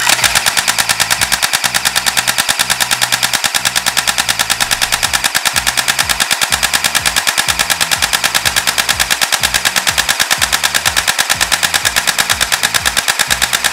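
A CYMA CM023 MP5 Navy airsoft gun fires in one long, unbroken full-auto burst, with rapid, even mechanical cycling that stays loud and close throughout and has no talk over it.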